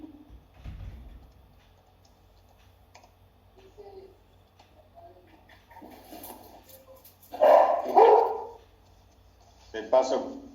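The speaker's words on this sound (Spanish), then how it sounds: "De paso, hacen su aporte los perros." Dogs bark in a few loud bursts in the background, heard after quiet stretches with faint talk and light clicking.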